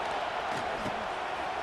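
Steady broad roar of a stadium crowd at an LSU Tigers home football game against Rutgers, a constant dense wash of distant voices with faint talk underneath.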